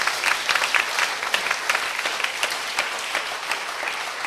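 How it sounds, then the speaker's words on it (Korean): A church congregation breaks into sustained applause during a worship service, a dense, steady wash of many hands clapping close and loud throughout. "박수로 주님께 영광 돌립니다"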